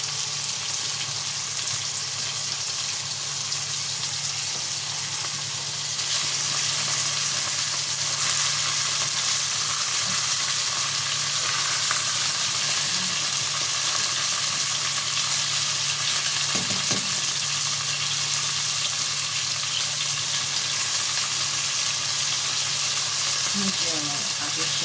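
Chicken sizzles steadily as it is sautéed and stirred in a hot pan, a loud continuous frying hiss with occasional soft scraping knocks from the utensil, and a voice speaking faintly in places.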